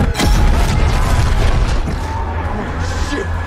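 A heavy airplane explosion booms at the start, then a long rumbling roar with crashing debris that slowly fades.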